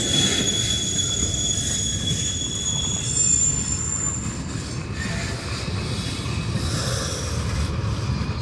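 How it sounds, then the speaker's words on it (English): A CSX freight train rolls past close by on a curve in Deshler, Ohio, wheels squealing in long high-pitched tones over a steady low rumble, continuous throughout. "Looks like I've never been this close to a train."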